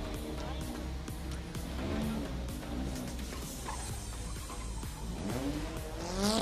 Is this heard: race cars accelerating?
yes